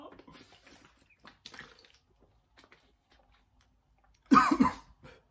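A person coughs once in a short burst near the end after drinking lots of water, following faint sips and small sounds in a quiet room.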